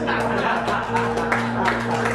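A comedy-show audience claps together in a dense, steady wash of applause, voting on whether an image is a painting. The applause holds at an even level throughout with no talk over it.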